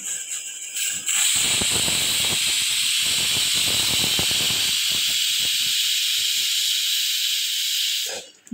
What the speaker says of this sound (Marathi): 2 शिट्ट्या झालेल्या आहेत। गॅसवर कुकर ठेवलेला आहे